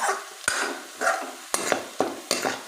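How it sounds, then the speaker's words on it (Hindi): Onions and peas fry in a pan with a steady sizzle, and a spoon stirs them in repeated scraping strokes with occasional sharp clinks against the pan, heard close. "अब हम इसमें मटर डालेंगे।"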